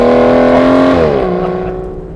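The 2014 Aston Martin Vanquish's engine screams at high revs in canyons with a loud, organ-like tone, then drops in pitch on a gear change or lift-off and fades slightly as the car moves away.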